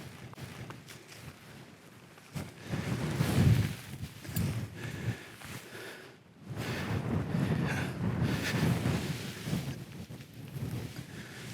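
Gusty wind buffets the microphone at an exposed solo camping spot, a low roaring rumble that eases briefly, then surges louder and stays steady, with no talk.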